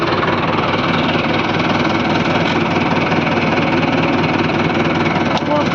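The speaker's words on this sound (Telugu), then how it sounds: "మనం ట్రాక్టర్ బ్యాక్ చేసుకొని తర్వాత ముంగటికి వెళ్తాం" A tractor engine idles nearby with a steady, loud, throbbing rumble and rhythmic knock that stays constant throughout.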